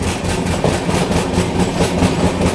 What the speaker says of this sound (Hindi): अपनी क्रॉसिंग यहाँ पे हो रही है अभी गोवा एक्सप्रेस के साथ, हज़रत निज़ामुद्दीन वास्को दा गामा।